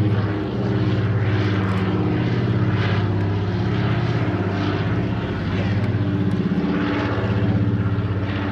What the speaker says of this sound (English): the Curtiss C-46 Commando, today carrying members of the airborne demonstration team